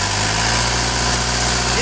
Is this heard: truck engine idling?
yes